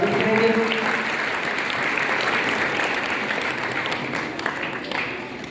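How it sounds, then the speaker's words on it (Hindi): Audience applause welcoming a guest advocate at a school gathering in Rajasthan, a steady dense patter of many hands throughout, with a voice briefly speaking over it at the start. "तो एक बार तालियों से मैं उनका स्वागत करेंगे।"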